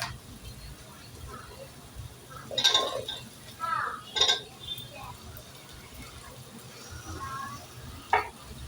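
Carrots frying in a pan for a vegetable biryani, with a few louder scraping stirs of a spoon and a soft sizzle running underneath, close and fairly quiet.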